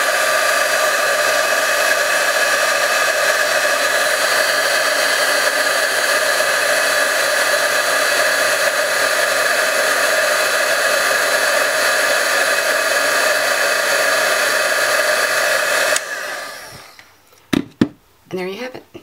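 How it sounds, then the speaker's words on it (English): A heat tool blows a steady, loud hiss as it melts clear embossing powder on a metal brad, running continuously for about sixteen seconds before cutting off into a few brief knocks. "we'll take our heat tool and melt the clear embossing powder and change the color of it"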